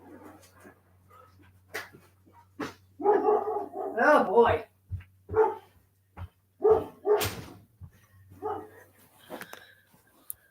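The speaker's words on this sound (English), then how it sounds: "Let's go outside so you can bark at the mail lady." A dog barks in short, loud bursts at a mail carrier outside, the barks mixed with a voice speaking briefly between them, close to the listener.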